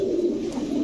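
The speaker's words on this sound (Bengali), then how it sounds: "পুরো হাই গ্রেডের কবুতর।" A high-grade pigeon cooing, a single low, close, sustained throaty coo lasting under a second, clear and without talk.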